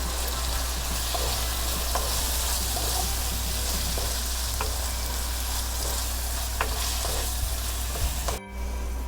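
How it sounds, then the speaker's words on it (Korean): Kimchi stir-frying in a pan with garlic, a steady loud sizzle running throughout with occasional light clicks of stirring, cutting off abruptly near the end. "요때 김치를 넣어줄게요. 자. 하고 또 볶아야죠."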